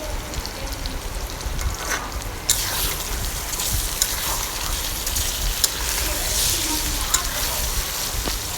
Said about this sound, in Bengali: এখন একটু ভেজে নিয়ে এটার সাথে আদা রসুন পেস্ট